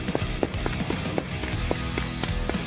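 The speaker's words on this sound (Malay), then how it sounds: "suasana sunyi dipecahkan dengan suara orang berlari" Footsteps of several people running, a steady patter of quick impacts over a low, busy background, heard during a commando rescue of an American pilot in Bosnia.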